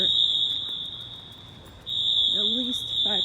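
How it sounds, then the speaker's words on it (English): An outdoor building fire alarm sounds a continuous piercing tone in front of an apartment block, briefly dipping before resuming, with someone talking over it near the end. "The fire alarm has been going off for"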